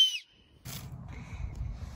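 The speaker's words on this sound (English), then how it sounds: "something really interesting you can do when you find the top of an acorn is whistle" A short, high whistle is blown through an acorn cap outdoors beside a small tree and log. The first quarter second carries a piercing tone, followed by soft rustling and low outdoor background noise.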